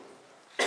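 A single short cough bursts out at the very end after a faint, near-silent stretch, close and fairly loud, in a French stage comedy performance.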